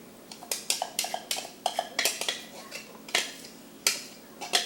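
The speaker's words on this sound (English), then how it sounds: "Here are my already chopped onions and green peppers. I'm just going to put them in here." Pre-chopped onions and green peppers drop into a buttered pan while cooking jambalaya, giving a quick run of close, sharp clatters and scrapes of utensil against cookware, with no talking.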